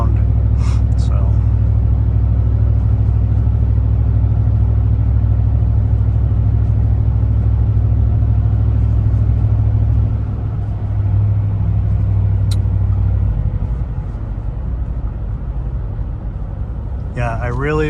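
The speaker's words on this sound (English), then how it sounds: "both of these exhaust systems, I think, are both very nice fits for these trucks if you want some sound" A truck fitted with a Rough Country exhaust drives through city streets and freeway, its low steady exhaust drone filling the cabin before easing off near the end, with a brief clatter at the close.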